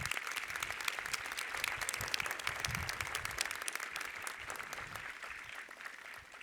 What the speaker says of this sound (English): Please join me with a round of applause thanking them for their service and sacrifices.